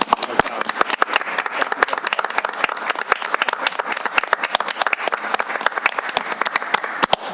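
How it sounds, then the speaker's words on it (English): Applause at a board of education meeting, a room of people clapping briskly and steadily with sharp, dense claps for several seconds, fairly loud and close. "let's give them a little round of applause"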